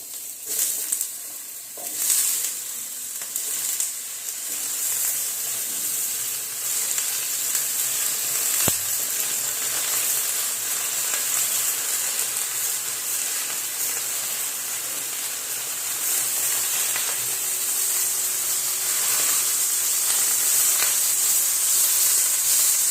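Mixed vegetables for a Bengali paanchmishali torkari frying in a pan, a steady bright sizzle and hiss running throughout with occasional stirring, no voices.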